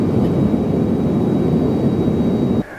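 Steady roar of a small airliner cruising above the clouds on a short hop from Philadelphia to Harrisburg, a constant broadband engine and airflow drone heard from inside the cabin, cutting off sharply at the end.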